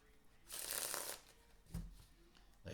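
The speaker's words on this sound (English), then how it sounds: "These cards faro great." Deck of playing cards being faro shuffled, a crisp riffling burst in the middle, then a softer flutter and a few quiet handling sounds at the end, close and alone.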